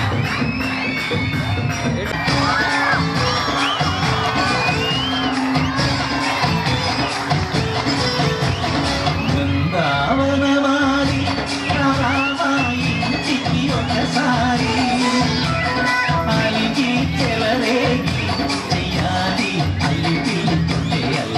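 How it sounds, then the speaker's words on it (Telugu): An audience at a school annual day event cheers, with children shouting and whooping in a loud, continuous crowd roar that goes on throughout. "గట్టిగా హృదయపూర్వకంగా చప్పట్లతో కృతజ్ఞతలు తెలియజేస్తాను"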